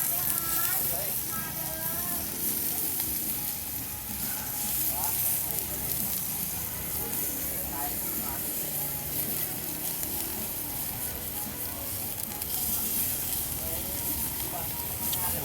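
Pork belly sizzling on a Lao mookata grill pan at a pork pan buffet: a constant hissing sizzle runs throughout beneath people chatting in a busy, noisy room.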